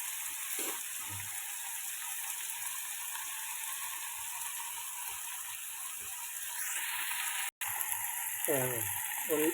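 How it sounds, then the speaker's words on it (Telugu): Broad beans frying in a pan, a steady low sizzle with occasional clicks and scrapes from stirring, and brief voice-like bursts near the end. "వేగాలి వేగితే బాగుంది"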